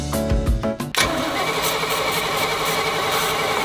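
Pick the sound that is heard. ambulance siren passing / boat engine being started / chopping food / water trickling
boat engine being started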